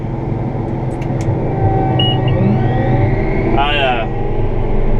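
A Massey Ferguson tractor engine revs up under throttle in a field, a steady loud rumble with a brief whine rising near the end.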